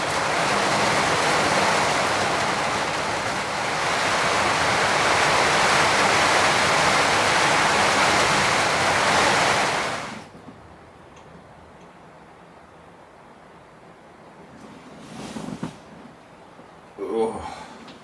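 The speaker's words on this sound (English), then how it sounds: "the rain is just insane outside." Heavy torrential rain pours outside a remote cabin at night. It is a loud, steady rush of noise for about ten seconds, then drops abruptly to a faint background with a few soft, scattered sounds.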